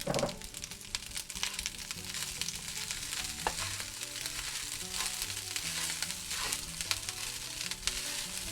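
Leftover brown fried rice frying in avocado oil, a dense continuous crackle and sizzle with frequent small pops and occasional stirring, quiet and uninterrupted by speech.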